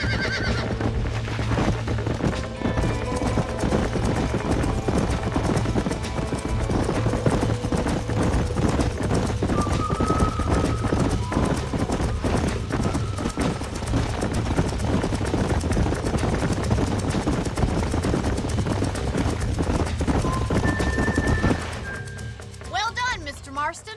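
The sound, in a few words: horses galloping in the video game Red Dead Redemption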